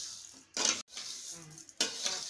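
Semiya vermicelli roasting in a pan for upma while being stirred, with a soft sizzle under bursts of scraping and rustling from the spoon moving through the dry strands, close and brief.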